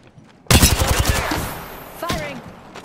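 Automatic gunfire in the shooter game Apex Legends: a loud burst of rapid shots rattles out, trailing into a fading echo, then a second sharper report follows with a metallic ring.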